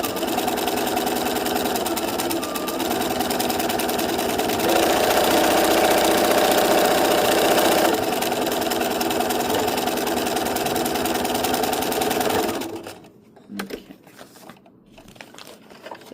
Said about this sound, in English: I think the more stitches you try out, the more you get used to using a sewing machine